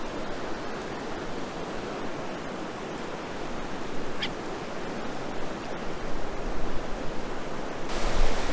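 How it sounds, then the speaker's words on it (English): Water pouring into the Blue Hole spring at Salt Springs, a constant broad rushing roar like a small waterfall boiling up the pool, steady and close with a slight swell toward the end. "You can see over here where the water pours into the hole here, makes this big boil out"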